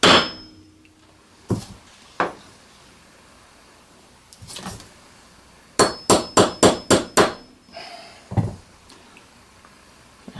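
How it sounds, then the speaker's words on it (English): A hammer strikes a socket set over a ball for a homemade drill socket driver, giving sharp metallic smacks: a few scattered single hits, then a fast run of six close together, then a couple more, all loud and close. "we're going to give it a smack with a hammer"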